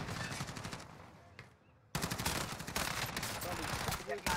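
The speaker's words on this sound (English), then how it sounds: "Whoa, I'm getting sniped already." Rapid gunfire crackles through a Call of Duty Warzone match, a burst of shots that fades briefly, then a louder, denser volley of sharp reports over the game's background.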